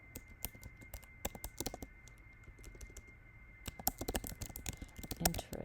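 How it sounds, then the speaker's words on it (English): Typing on a computer keyboard, close and fairly quiet: irregular bursts of crisp key clicks with short pauses, quickening into a denser run near the end, with no voice. "I'm just going to type it in."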